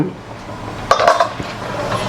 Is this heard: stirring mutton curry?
yes